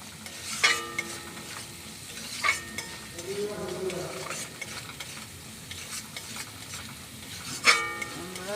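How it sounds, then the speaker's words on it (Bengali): Coriander powder is sautéed in a pan for ghugni over a high gas flame, soft sizzling under repeated stirring and a few sharp clinks of the spatula against the pan. "ধনে গুঁড়ো ভালো করে কষে নিতে হবে"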